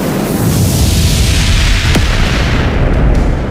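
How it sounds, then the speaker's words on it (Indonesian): A huge blast effect of two clashing auras sends a shockwave through a forest. A loud, sustained roaring rumble fills the whole stretch, with a brief whooshing streak partway through and no voices. "Kedua aura meledak bersamaan, menciptakan gelombang kejut yang mengguncang hutan"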